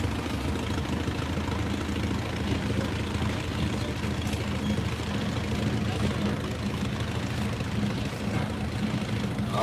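A 1935 antique tractor engine runs steadily as it drives in a tractor parade, a continuous low rumble close by with an announcer talking over it.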